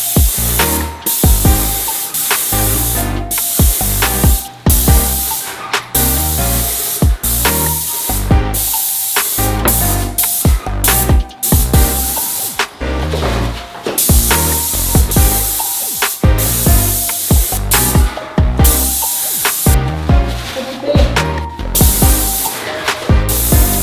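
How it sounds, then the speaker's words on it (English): Paint spray gun laying a first coat of Benjamin Moore Creekside Green during a home office makeover, a loud continuous hiss broken into rapid repeated bursts with brief pauses between passes, close and alone. "After prepping her spray gun and donning her paint suit"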